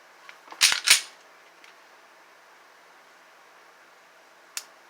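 Trigger reset of a Taurus G2C 9mm pistol: a tight cluster of sharp, close clicks early on, then a single crisp click near the end, with quiet room noise between and no talking.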